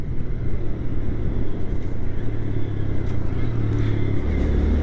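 A 2025 Honda Grom motorcycle ridden on steep back roads, its small engine droning steadily with wind rush over the rider, loud and close throughout with no speech.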